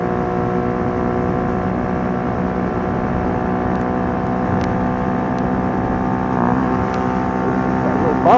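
A Kymco K-Pipe motorcycle engine drones loud and steady under riding wind, its pitch wavering slightly as it struggles near the top end.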